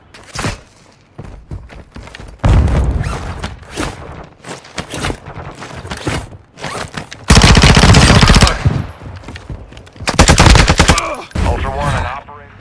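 Video game gunfire in loud bursts: rapid automatic fusillades crackling between quieter stretches, with a few faint voices and movement sounds between the volleys.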